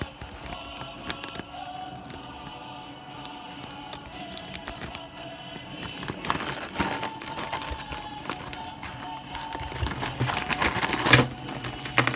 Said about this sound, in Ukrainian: зараз я відкрию цей пакетик